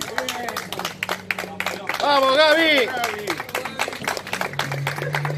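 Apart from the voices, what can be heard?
applause for the departing pilot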